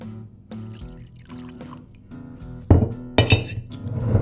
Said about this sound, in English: Little pour.